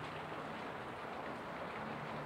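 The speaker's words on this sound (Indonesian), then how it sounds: "di luar rumah ini hujan deras." Heavy rain falls outside a house in Makassar, heard from indoors during strong winds. A steady, faint, even hiss continues throughout, with no talking.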